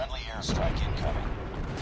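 A heavy, rumbling artillery strike in Call of Duty Mobile rolls through as a dense, continuous boom under game audio, steady and loud for its short length.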